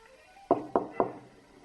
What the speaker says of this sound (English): Knock louder.